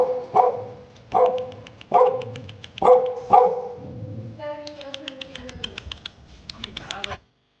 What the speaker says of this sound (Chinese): 前面这里有小狗啊